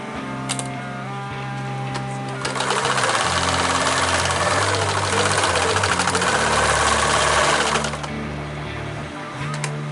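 A sewing machine stitches a rollup backpack in short loud bursts, its needle motor chattering rapidly for several seconds after a quieter start, then stopping abruptly.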